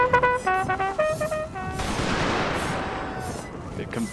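Civil War battle in a Total War video game: gunfire and booming shots from the 1863 Battle of Conewago Creek, with rapid crackling volleys at first and then a long rolling rumble. A voice talks over the opening.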